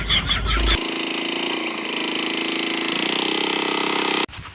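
A steady tractor engine drones at close range while ploughing a field, holding an even mechanical rumble for several seconds before cutting off abruptly near the end.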